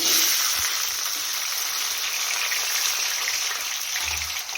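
Onion with curry leaves, mustard seeds and cumin frying in hot oil for a potato curry, a dense, continuous hiss and crackle close up, with no one talking.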